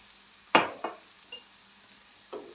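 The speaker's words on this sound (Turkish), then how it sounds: "Şöyle karıştıralım güzelce." Fried onions with red pepper flakes and black pepper being stirred in a pan, heard as three or four distinct clanks and scrapes of a metal utensil against the pan, close and fairly loud, with quiet gaps between them.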